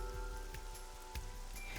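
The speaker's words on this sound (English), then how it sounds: "A parasol is getting pelted by the rain." Rain in the video game AI: The Somnium Files pattering steadily on a parasol, a continuous close wash of drops under a faint musical tone.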